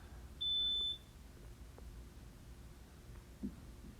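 A household smoke alarm gives one loud, shrill electronic beep of about half a second when its test button is held, followed by quiet room tone and a soft click.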